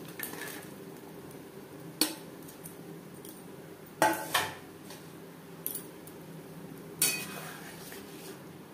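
Fried paneer being stirred into gravy in a pan for a garlic-, onion- and ginger-free vegetarian paneer dish, heard as intermittent metal spoon clinks and scrapes against the pan over a low background hum, with no talking.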